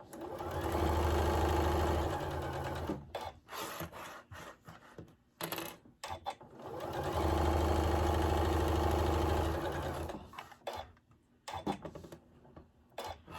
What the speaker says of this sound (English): I am going to sew 1/4 inch all the way around the entire square